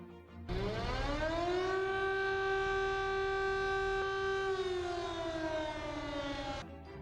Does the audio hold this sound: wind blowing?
no